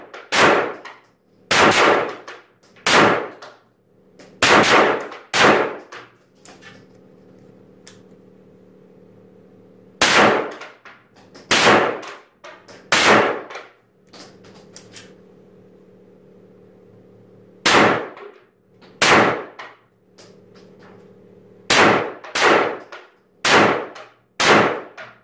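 Gunfire at an indoor shooting range near a gun factory: sharp shots in irregular bursts, each followed by a ringing clang from steel targets, with a lingering metallic hum between volleys.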